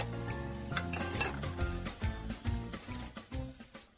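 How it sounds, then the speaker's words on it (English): Dishes being washed make a busy, continuous clatter of clanking pots, pans and cutlery, with frequent sharp clinks throughout and no voices. "Clang, clang, clang, clang, wash the dishes."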